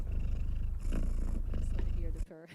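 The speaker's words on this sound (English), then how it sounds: "Hear the purr. It's quite calming." A cat purrs close and steady in a continuous low rumble, with a voice talking over it and the purr cutting off near the end.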